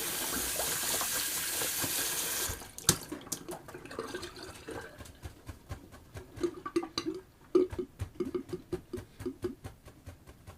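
Water runs from a tap as a shaving brush is rinsed, a steady rushing stream that gives way to irregular splashing and sloshing, close and moderately loud with no talk.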